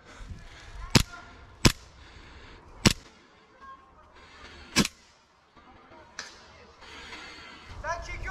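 Sharp, loud single shots from airsoft guns crack out during an airsoft game, about six scattered pops spread irregularly across the stretch, with players talking and calling out between them.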